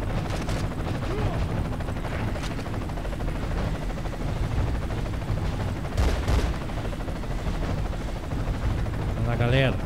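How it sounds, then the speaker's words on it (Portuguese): A helicopter whirs steadily in the PlayStation 2 game SpyHunter, with repeated bursts of gunfire over a busy game soundtrack, and someone talks throughout. "O helicóptero tá ali em cima"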